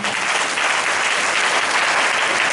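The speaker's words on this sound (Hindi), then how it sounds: "जोरदार ताली बजाओ।" Church congregation at a resurrection service claps loudly together, a thick, even wash of applause sustained for a couple of seconds with no voices.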